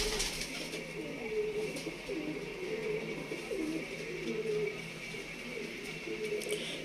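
Teddy pigeons at a loft in Shad Bagh, Lahore, with a female arriving last; soft repeated cooing murmurs run steadily through the clip over a faint background hum.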